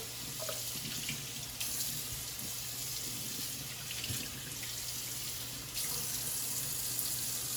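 Cold water runs steadily from a tap over cured bacon pieces being rinsed, splashing and trickling with slight changes in flow, fairly quiet and close.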